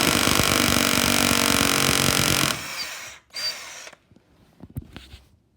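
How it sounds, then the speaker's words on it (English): A power drill boring a hole during living room refurbishing, a loud steady whine running for about two and a half seconds before cutting out, followed by a few quieter knocks and handling sounds. "And finish drilling the hole, which should be bang on."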